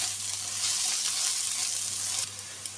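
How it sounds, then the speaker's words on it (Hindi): Garlic ginger paste fries in oil with a continuous close sizzle and faint stirring, the hiss steady and fairly loud before easing slightly near the end. "लहसुन अदरक का पेस्ट अच्छे से भुन चुका है, अब मैं इसे थोड़ा सा 2 टेबल स्पून ऑयल और डालूंगी"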